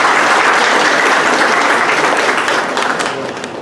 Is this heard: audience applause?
yes